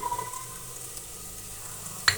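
Spices sizzling and frying in hot oil over a low flame for matar aloo sabzi, a soft steady crackle at moderate volume, with a brief louder stir or clatter near the end and no talking.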